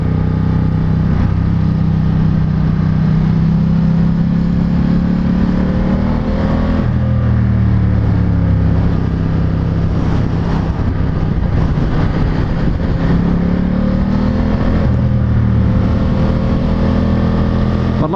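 A Ducati Diavel 1260S engine drones steadily while the motorcycle is ridden, a loud continuous rumble with gentle rises and falls in revs and rushing air, over about eighteen seconds.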